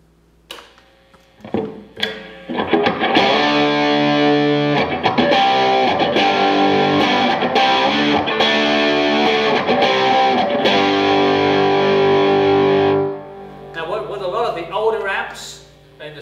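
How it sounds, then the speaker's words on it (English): A Rittenhouse Stratocaster replica guitar plays through the distortion channel of an Orange Rockerverb 50 amp, a loud, sustained, thick overdriven passage lasting about eleven seconds, bracketed by brief quieter picking and handling noise. "Now I'm going to flip to the second channel, which is distortion."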